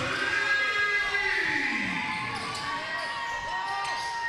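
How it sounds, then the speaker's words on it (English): Crowd roar at a high school basketball game between Heritage and Shoreline Christian after a corner shot falls, a sustained loud cheer that tapers slowly, with an announcer's voice running over it. "Crowd erupts"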